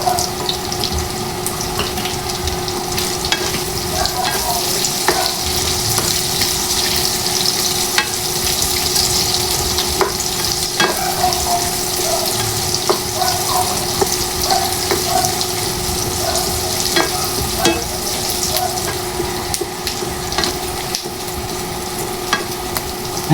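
Chicken with onion and garlic sizzles steadily while being stir-fried in a pan for a chopsuey dish, a continuous crackling fry with occasional stirring clinks, fairly loud and close with no talking.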